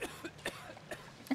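Coughing from a character in the Bioshock 2 video game, a few short, quiet hacking bursts spread over a brief moment with no talk over them.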